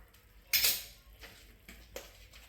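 A knife cuts through a crispy cheese vada on a plate, close and quiet: one sharp clink and scrape, then a few soft taps and cuts, with no talking.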